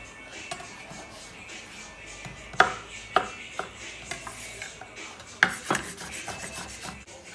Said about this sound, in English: Avocado chopped.